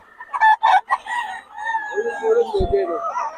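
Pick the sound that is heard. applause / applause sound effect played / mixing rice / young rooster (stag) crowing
young rooster (stag) crowing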